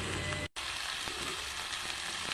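Tomato, dried chilli, garlic, onion and chopped coriander frying in a pan, a steady soft sizzle that briefly cuts out and resumes, faint and close.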